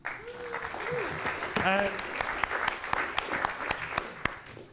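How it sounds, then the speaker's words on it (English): A room full of people claps steadily, dense and lively, with a few louder individual claps and a voice speaking briefly over it. "Give Esther a round of applause."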